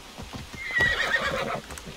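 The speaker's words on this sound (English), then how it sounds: "There's my wonderful horse." A horse in Assassin's Creed Odyssey whinnies loudly over a rapid, steady clip-clop of hooves close by.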